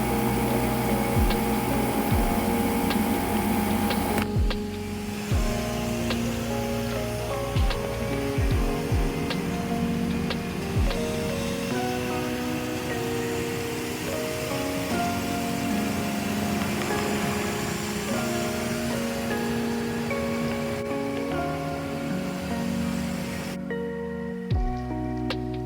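A coin-operated top-load laundromat washing machine runs with a continuous churning hum and sloshing water, steady and close, changing tone a few times over the long stretch, with no talking.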